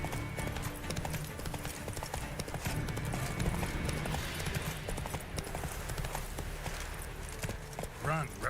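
Roach the horse gallops in The Witcher 3, with rapid, steady hoofbeats pounding close and loud throughout, layered over busy game ambience and a voice speaking.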